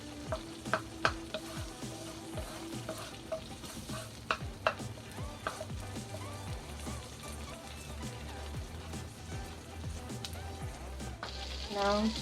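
Two cloves of garlic sizzling in melted butter in a pan: a quiet steady crackle and fry, broken by louder clicks and stirring scrapes, with a voice talking now and then.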